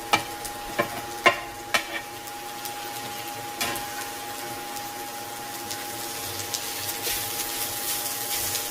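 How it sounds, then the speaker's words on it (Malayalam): Coconut and wilted onion roast in a pan for a chammanthi spice mix: a steady low sizzle under a handful of sharp scraping stirs and taps near the start, then quieter, even frying. "ഒന്ന് കളറ് മാറുന്നത് വരെ വറുത്തെടുക്കണം."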